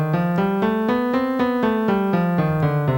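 A guitar plays a melodic minor scale, about a dozen evenly spaced single notes climbing and then stepping back down with the raised sixth and seventh, played clearly and close with no talking.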